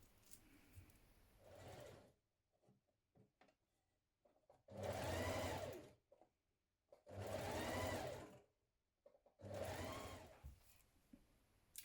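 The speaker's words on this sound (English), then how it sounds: "you're going to stitch between the seam markings here" A sewing machine stitches a seam on a Burda 6322 vest and blouse pattern in three steady whirring runs of about two seconds each, separated by quiet pauses with faint handling noises.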